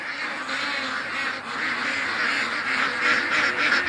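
A flock of ducks quacks and chatters steadily throughout, a dense continuous mass of overlapping calls at moderate distance with no talking.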